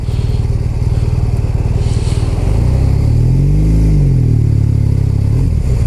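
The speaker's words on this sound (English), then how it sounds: "Oh, my exhaust. Oh! I like the sounds." A 2015 BMW R1200RT LC motorcycle with an Akrapovic aftermarket exhaust idles with a deep, throaty burble, then revs up and eases back down, loud and close.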